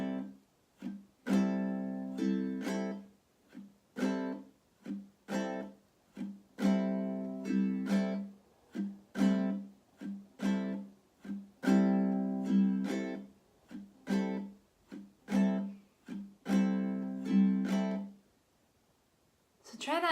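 Ukulele strummed with a left-hand mute for a jazzy feel: short, choppy chord strokes in a steady rhythm for about seventeen seconds, each cut off quickly, close and fairly loud, then a brief pause before a final stroke.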